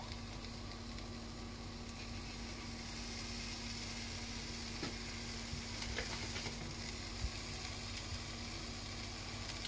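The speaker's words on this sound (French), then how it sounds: "on fait saisir un petit peu au départ" Meat sears in a large, hot pan over fairly high heat, a steady broad sizzle holding at an even level throughout with a few small pops and crackles, no voices.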